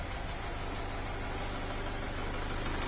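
A Nissan X-Trail with a Renault 2.0 dCi diesel engine runs with a piston knock, a steady dense mechanical clatter and rumble held at an even, fairly quiet level throughout, with no voices.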